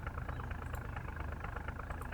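A car engine idles in the video game Project Zomboid, a steady low rumbling drone with a faint regular pulse, continuous and fairly close.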